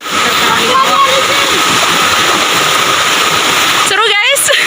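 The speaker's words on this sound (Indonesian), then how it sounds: "air terjun si piso-piso." A waterfall in Papua Barat roars as a loud, steady rush of falling water, with a person's voice briefly over it near the end.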